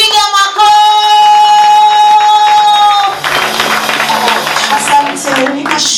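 A church congregation claps hands together in a burst of quick, overlapping claps that follows a sustained sung or musical tone, fairly loud and close.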